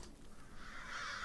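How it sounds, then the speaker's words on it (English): Crows caw in the video game Tearaway Unfolded, a faint, short call heard alone for about a second against a quiet background. "Let us send the crows to punish us and steal our souls."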